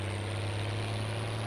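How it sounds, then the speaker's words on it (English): Steady low engine drone of a tracked MV tractor in Glen Isla farming simulator gameplay, a constant idling hum with a faint high whine above, no talk. "Let's go ahead and get our MV track, our lovely sounding track."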